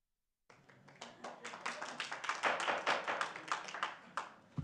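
In a town council meeting chamber, a small group breaks into applause after a short silence, scattered individual claps that build and thicken into a quiet, uneven patter.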